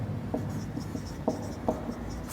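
Marker or chalk writing on a board during a lecture, faint scratchy strokes with a few distinct taps over low room noise.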